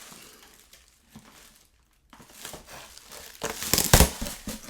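Plastic bags rustle and crinkle as comics are unpacked from a very large box, with scattered soft crackles that pause briefly, then build into louder, denser crumpling close by.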